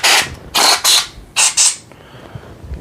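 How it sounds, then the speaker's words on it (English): Short hissing blasts from a can of air duster clear dust and kitty litter off a Dirt Devil Endura Max vacuum, five close, sharp sprays in quick pairs followed by quieter rattling. "See if I have an air duster available."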